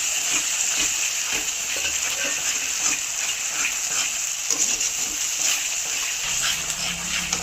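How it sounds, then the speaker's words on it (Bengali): Masala sizzles and spatters in hot oil for a spinach and paneer curry, a continuous bright frying hiss with small pops, steady and close, no voices. "দেখুন মশলা কষাতে কষাতে তেলটা একদম উপর দিকে ভেসে উঠেছে।"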